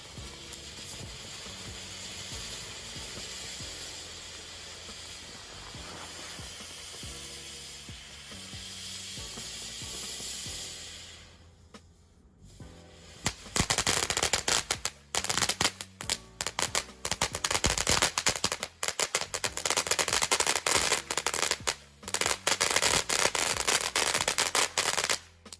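A Short Stack consumer safe-and-sane firework gives a steady hissing, crackling spray, then after a brief lull bursts into loud, rapid crackles and pops in irregular clusters that go on for several seconds.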